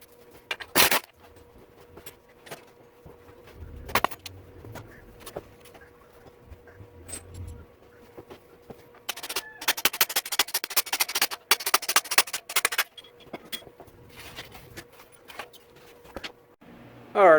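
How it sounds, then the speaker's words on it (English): A bicycle wheel is taken off a hybrid bike for chain and sprocket work. There are scattered mechanical clicks and knocks, then a burst of rapid ratcheting clicks in the middle, close by and with no talk. "Let me go ahead and get the wheel off and we'll get it to the bench."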